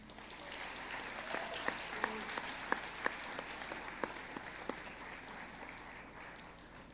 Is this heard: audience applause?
yes